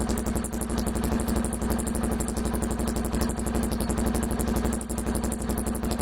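A motorcycle fitted with a straight-through exhaust rumbles loudly and continuously up close, a rapid pulsing throb with a raspy, clattering edge.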